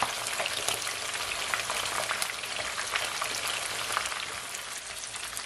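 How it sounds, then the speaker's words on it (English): Snapper fish frying in hot oil, an even, dense crackle and spatter like patter of rain, close and steady throughout with no voices. "So you're gonna allow your fish to fry for at least 6 minutes on each side,"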